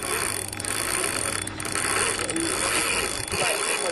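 A fishing reel's drag clicks rapidly and continuously as a hooked fish strips line near a dock, a loud, close mechanical ratcheting that runs throughout without talking.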